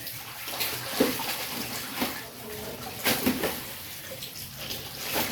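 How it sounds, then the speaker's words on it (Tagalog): Rinse water poured over a person's head pours and splashes into a basin in uneven gushes, with a few sharper spills standing out against a steady wet hiss, close by. "yung tubig na pinagbabanlawan ko, dumadaan muna sa ulo ko"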